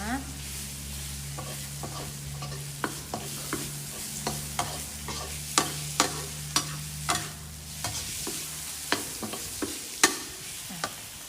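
Pork stir-fried over medium heat, a low even sizzle under repeated sharp spatula scrapes and taps against the pan at an irregular beat, close and alone.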